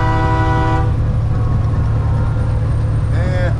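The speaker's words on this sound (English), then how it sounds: "He kind of honked back." A loud vehicle horn blares briefly at the start over heavy engine rumble, then a second, fainter honk sounds near the end.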